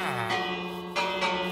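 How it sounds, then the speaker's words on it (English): A villager bell rung in Minecraft, giving a few bright metallic strikes whose ringing tones overlap and hang on, fairly near and clear, with no talking. "ring the bell"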